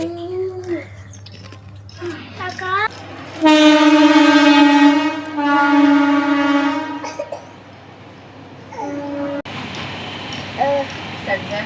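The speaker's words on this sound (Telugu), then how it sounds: "ట్రైన్ వస్తుంది చూపిస్తాను." A train horn blares loudly for several seconds, followed by rumbling, with voices talking before and after.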